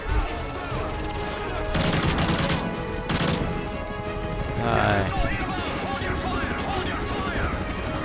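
Gunfire in a Modern Warfare 3 campaign mission, dense crashing shots and explosions layered with game voices and music, loud and continuous throughout.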